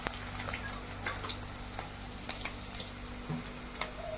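Chopped onion frying in a pan for Maharashtrian masale bhaat gives a steady, low sizzle with scattered faint pops and crackles, continuous throughout and fairly quiet.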